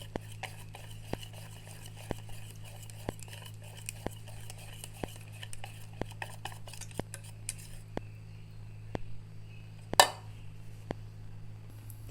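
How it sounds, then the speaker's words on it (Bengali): Batter mixed with chopped green chilli and water is stirred in a bowl in a home kitchen, a soft, steady tapping and scraping of a utensil, fairly faint, with a sharper clink near the end. "অল্প অল্প করে জল দিয়ে ভালো করে একটা ব্যাটার বানিয়ে নিচ্ছি"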